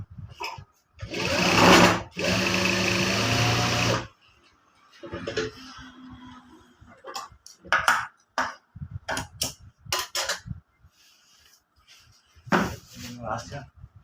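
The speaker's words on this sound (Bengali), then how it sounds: "এবার এটা একটা সেলাই করে নেবো।" A sewing machine stitches a cross pocket onto the side of a pair of trousers, running in a loud, steady burst early on and then in several short bursts, with a person speaking in between.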